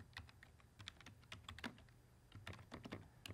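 Someone types on a computer keyboard while setting up a Google Sites page, giving a quick, irregular run of soft, close key clicks that is faint and steady, with no voices.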